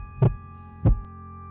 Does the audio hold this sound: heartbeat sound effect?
yes